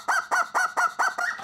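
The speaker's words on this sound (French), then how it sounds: "Je le frappe avec un poulet, regarde." A plastic rubber chicken toy used to hit someone gives six loud, evenly spaced honking squawks in quick succession, close and alone with no talk.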